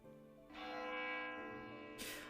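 A large bell in a roleplay video game rings with a sustained, resonant metallic tone that swells and hangs in the air, fairly loud with no talking over it.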